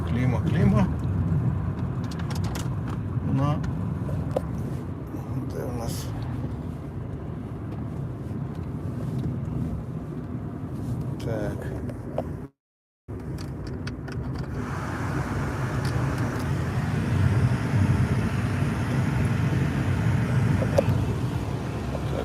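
A Renault Clio drives along with a steady road and engine hum heard from inside the cabin, while people talk over it throughout; the sound briefly cuts out midway.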